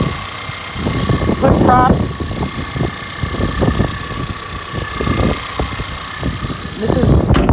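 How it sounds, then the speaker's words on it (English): A 2022 Ford Ranger STX with a traditional belt-driven fan clutch idles steadily with a low, even truck-like hum, running under close, continuous talking throughout. "It's got a traditional belt-driven fan clutch, just a little bit noisier, sounds more truck-like."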